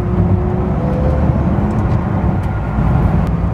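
Supercharged V8 of a 2006 Ford GT heard from inside the cabin, a loud continuous low engine roar and drone that holds steady throughout, with no talking.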